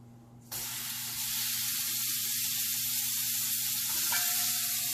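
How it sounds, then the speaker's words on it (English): Burgers hit a hot cast iron pan with a sudden loud sizzle that continues as a steady, bright frying hiss. "And then I'll put them in the cast iron. They're gonna sizzle"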